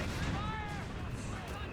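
Artillery barrage in the World War II strategy game Company of Heroes 3: a dense, continuous rumble of distant shell blasts with whistling incoming rounds layered over it, steady and loud throughout.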